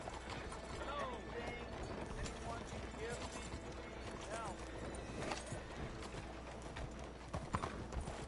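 Horse hooves clop in Red Dead Redemption 2 at night, a busy, close rhythm mixed with clicking tack and mechanical rattles, a brief whinny, and a voice talking over it.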